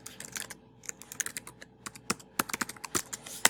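Rapid, uneven keystrokes clatter on a computer keyboard as a folder name is typed, close and crisp with brief pauses between bursts, and nobody speaks.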